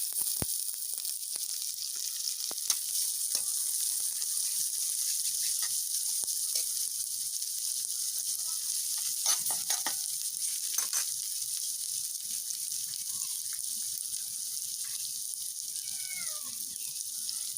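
Chopped onion and garlic frying in a pan for a mustard-leaf fish head dish, a soft, steady sizzle with faint scattered clicks and a brief high whining sound, no voices.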